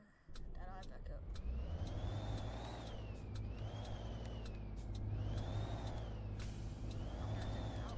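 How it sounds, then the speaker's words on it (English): A Peterbilt 387 truck engine in the Euro Truck Simulator 2 game drones loud and steady, its whining tone climbing and dropping with each gear change. "this engine sound is very annoying"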